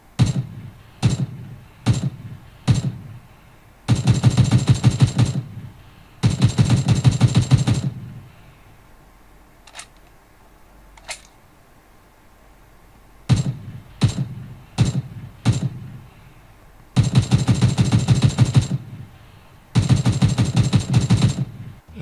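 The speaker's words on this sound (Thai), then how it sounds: "เอาลำโพงตัวนี้เล่นปับจี กดยิงกดยิงปังๆ เนี่ย เป็นไงดีเลยขนาดไหน" Video-game gunfire from PUBG plays through a Tronsmart T7 portable speaker. Single shots alternate with long automatic bursts, loud and punchy, separated by quieter stretches of background game sound, with no talking.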